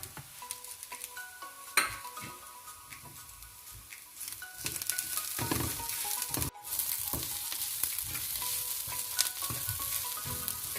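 Shrimp frying in a pan with chilli powder, a steady close sizzle broken by clanks of a spatula and pan, with a sharp thump and louder bursts of sizzling as ingredients are stirred.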